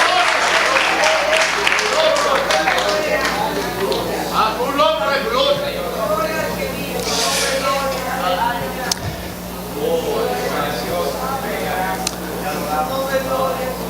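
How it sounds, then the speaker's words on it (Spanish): A church congregation claps loudly and continuously for the Lord at a Spanish-language service, dense applause mixed with voices and shouts throughout, easing slightly midway before swelling again. "Dele fuerte el aplauso al Señor en esta hora."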